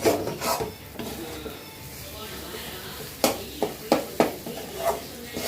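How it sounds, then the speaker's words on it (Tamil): Egg rice being stirred in a cooking pot, with scraping and rubbing strokes of a spoon against the pot, soft at first and then several louder rhythmic scrapes close by. "கிண்டுக்கிட்டு இருக்கேன் நான்"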